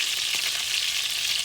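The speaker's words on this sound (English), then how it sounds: "Just turn your meatballs on all the sides to get them good and crispy" Ground beef meatballs sizzling in a pan as they crisp, a dense, continuous hiss that stays loud and close throughout, with no voices.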